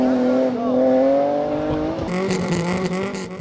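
A BMW 318 rally car with rear-wheel drive running on a rally stage at the Rallye Ribamontan al Mar: a loud, steady engine drone climbing in pitch, then a rougher, gravelly passage, with a commentator talking over it.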